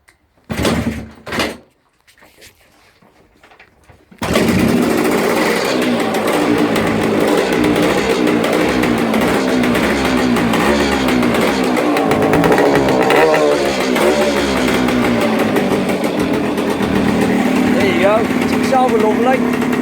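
Small engine cranking, stuttering briefly, then catching and running loud and steady with rising and falling revs, close by, with voices talking over it.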